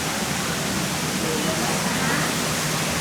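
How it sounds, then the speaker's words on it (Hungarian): Spring water gushes at the Roman Baths in Bath, England, a loud, steady rushing wash, and a voice may be talking faintly beneath it. "innen tör magának utat a víz, majd van elvezetve a fürdőkbe"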